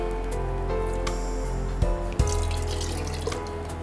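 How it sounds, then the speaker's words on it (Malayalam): Thick first coconut milk is poured into a Kerala-style prawn curry, a close, steady liquid pour with a couple of splashy drops near the middle over a faint background hum. "നമ്മൾ ഇതിലേക്ക് നല്ല കുറുകിയ ഒന്നാം പാൽ അതും കൂടി ചേർക്കാം."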